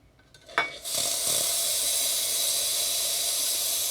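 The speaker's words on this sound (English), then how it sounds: "Once you do, this steam is actually pretty competent." The steam wand of a Lafeeca espresso machine opens with a brief sputter, then settles into a loud, steady hiss that runs unbroken to the end.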